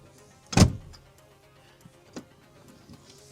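A front seat in a 2024 Volkswagen Atlas Peak Edition is tipped forward for rear access, giving a single sharp clunk followed by a couple of faint clicks in a quiet cabin.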